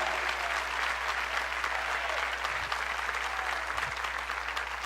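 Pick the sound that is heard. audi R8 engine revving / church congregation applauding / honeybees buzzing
church congregation applauding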